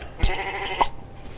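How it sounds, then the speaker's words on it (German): Two short sheep bleats from a blocky Minecraft-style game, MineClone2, heard close and clear with a brief pause between them and no talking. "Äh, gleich zwei Schafe."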